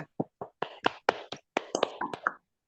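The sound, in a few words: group clapping hands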